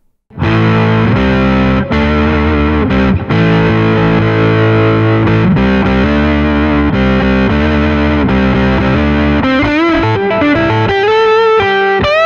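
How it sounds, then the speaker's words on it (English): A James Tyler Mongoose Retro electric guitar played through heavy distortion, loud sustained chords and ringing notes that give way to bending lead lines near the end, no voices. "It certainly holds distortion tones and really can go in the Gibson territory"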